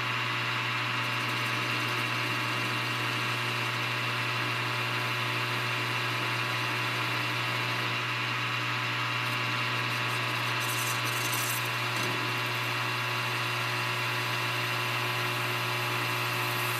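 A carbide insert tool cuts metal on a lathe during hydraulic cylinder repair work for a CAT D3 bulldozer, giving a steady, continuous machining whine and hum that holds evenly throughout, close and with no talking.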